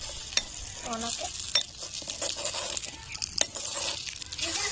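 Food frying and stirred on a small miniature stove during play cooking, a steady close sizzle with scraping spoon strokes and light clinks against the pan, no talking.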